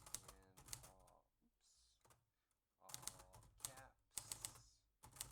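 Keys are struck on an Adler Tippa S manual typewriter in quick sharp bursts, with pauses and short mechanical sounds between the runs of typing.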